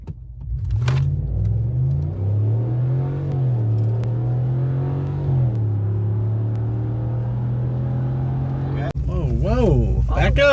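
A four-wheel-drive pickup truck accelerates hard in a drag race, its loud engine climbing in pitch through several gear changes in a continuous, close roar; voices and excited reactions come in near the end.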